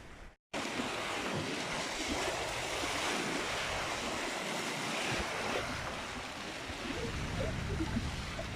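Choppy waves on Lake Coleridge during an overnight kayak trip, a constant close wash of lapping water and surf mixed with wind buffeting the microphone after a brief dropout at the start.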